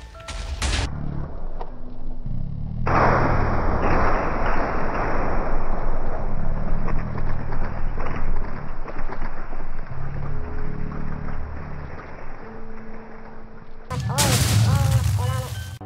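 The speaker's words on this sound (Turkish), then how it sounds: "Patlamaya bak." Minecraft TNT blowing up in a long, loud, dense barrage of overlapping blasts that rumbles on for about ten seconds, with a voice briefly heard near the end.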